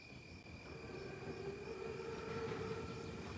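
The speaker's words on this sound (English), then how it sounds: "Train's right on time." An armored Panzerzug train in Call of Duty WWII rolls past as a steady rumble with a sustained whine and high tonal hum, holding even loudness throughout with no talk over it.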